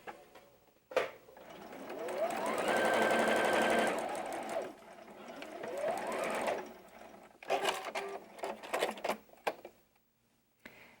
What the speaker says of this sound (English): I'm going to sew from the beginning, and I'm going to stop an inch before the end of the fabric.